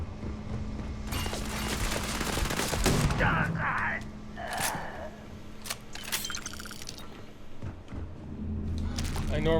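Shotgun gunfire in the sci-fi video game Starfield: several loud, sharp blasts and rapid bursts ring out close by amid game effects, with someone talking over much of the action.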